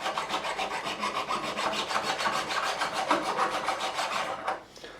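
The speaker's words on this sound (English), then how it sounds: "it's just a matter of going over that one fret and using the ones at the side as guides" Flat file leveling a single fret on a Yamaha FG335 acoustic guitar, rapid rhythmic rasping strokes close up and continuous for several seconds before stopping.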